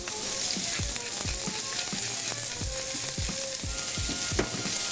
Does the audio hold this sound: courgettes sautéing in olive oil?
yes